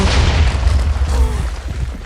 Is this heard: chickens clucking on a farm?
no